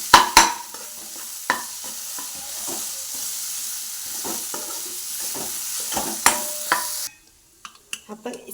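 Food fries in coconut oil in a pan with a steady sizzle, broken by repeated scraping stirs of a spoon. The frying stops abruptly near the end, leaving a few quiet clinks.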